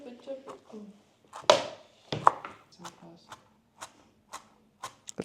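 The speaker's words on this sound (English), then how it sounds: "Okay, I am ready to chop." Coriander being chopped with a knife on a board, a series of sharp separate cuts in irregular rhythm, close and fairly loud, with softer handling sounds in between.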